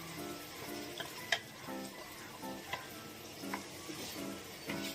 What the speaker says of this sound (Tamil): சேர்த்துட்டு நல்லா மிக்ஸ் பண்ணிக்கலாம்